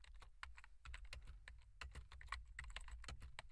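Rapid clicking of computer keyboard keys, close and steady with brief pauses between bursts of keystrokes, no voices.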